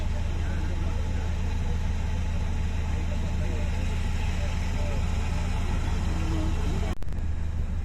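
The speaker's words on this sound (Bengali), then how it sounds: "আবার একটা যাত্রীবাহী ট্রলার এটাও নামখানা থেকে যাচ্ছে" A passenger trawler out of Namkhana chugs along steadily nearby, its engine giving a continuous low drone that holds for the whole stretch.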